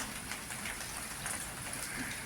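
Heavy rain pours in a dense, constant hiss with faint patters on surfaces, steady throughout and without voices.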